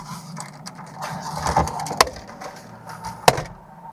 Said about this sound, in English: what we're gonna do over here is just pull this trim down